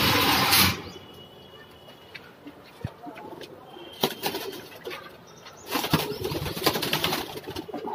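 Pigeons recovering from lakhwa, a paralysing illness, flap their wings in a few short, sharp bursts close by: one at the start, one near the middle and a longer flurry toward the end, with quieter rustling between.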